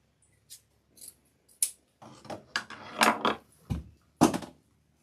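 Scissors trimming a winter cow centerpiece, a series of sharp close snips, sparse at first and then quicker and louder, with some rustling handling between cuts.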